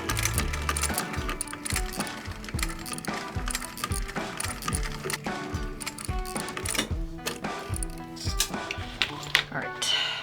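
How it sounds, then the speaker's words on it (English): A sewing machine stitches a leather crossbody bag: a close, steady run of rapid mechanical clatter with regular needle strokes throughout, and a faint voice underneath. "So we're gonna sew this down."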